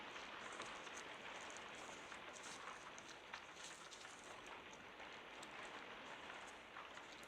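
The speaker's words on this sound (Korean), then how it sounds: "밖에 비가 많이 와요. 그래서 이 배경 소리에 빗소리가 아마 들어갈 거예요" Steady, dense hiss of heavy rain falling outside, constant and fairly distant, with scattered patters of drops and no talking.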